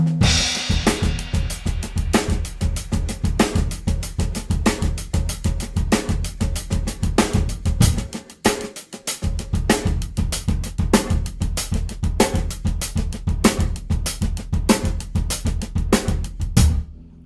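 A steady drum groove with a driving kick, sharp snare hits and soft ghost notes between them, played close and loud with a brief drop midway.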